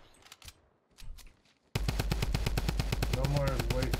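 Fortnite Battle Royale gunfire: after quieter game sounds, a loud sustained rapid-fire burst of automatic shots starts abruptly and continues evenly to the end.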